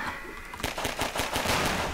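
Pistol gunfire in a Half-Life 2 mod game rings out as a rapid run of sharp, loud shots, about nine evenly spaced reports following a short lead-in of game ambience.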